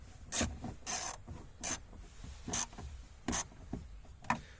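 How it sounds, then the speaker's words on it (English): Socket wrench with a 7/32 socket tightening a door speaker screw in a Ford Focus, heard as a handful of short, faint ratcheting rubs and clicks spaced irregularly, close up in a quiet space without talking. "we'll put our 7/32 socket on. And we'll tighten up this third one here"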